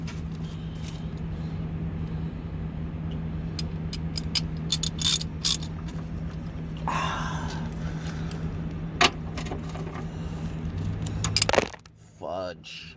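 Ratchet wrench tightening a car sub frame brace, repeated rapid clicking bursts and metallic clinks up close over a steady low hum, with a person talking intermittently.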